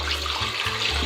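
Water is poured from a glass into a cooking pot of chicken kofta pulao with rice, a short, close, continuous splashing pour lasting about a second.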